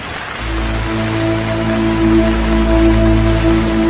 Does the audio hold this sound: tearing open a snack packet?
no